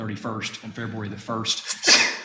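A sneeze bursts out near the end, a short loud broadband blast right after someone finishes speaking at a town council meeting.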